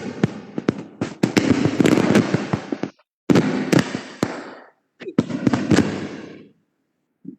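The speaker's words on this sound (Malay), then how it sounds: "ada mercun air cina" Firecrackers go off in dense crackling volleys of sharp pops, loud and close, in three bursts separated by brief pauses, with no talking.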